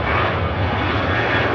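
A Ryanair jet airliner rolls for takeoff at Manchester Airport, engines giving a loud, steady roar in a short, unbroken burst.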